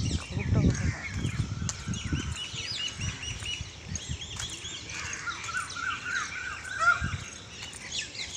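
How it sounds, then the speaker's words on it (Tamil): Birds chirp and call in scattered bursts during a morning walk under trees. Crow-like caws sound alongside higher tweets, moderately near, while low rumbling handling noise and a voice run underneath. "எனக்கு பறவைகள் சத்தம் ஒரு சத்தமே அந்த மெயினாக கூட்டம் கூட்டம்."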